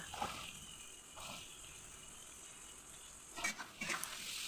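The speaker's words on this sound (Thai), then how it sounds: "ผัดคลุกเคล้าให้เข้าน้ำเข้าเนื้อเลยค่ะ" Zucchini and fresh shrimp stir-fried in a pan with oyster sauce and soy sauce, a faint hissing sizzle with a few soft stirring scrapes near the end.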